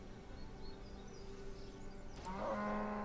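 A single cow in RuneScape starts a low moo near the end, rising out of a steady, quiet background hum.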